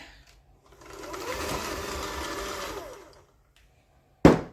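Electric kitchen mixer whirring while mixing cake ball batter, a steady buzzing hum rising in about a second, running some two seconds, then cutting off, followed by a brief loud clunk near the end.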